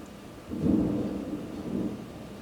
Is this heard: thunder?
yes